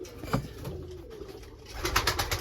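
Pigeons coo softly in a breeding loft of tumbler pigeons in Gebze, low repeated calls with a few louder bursts and some rustling, no talking.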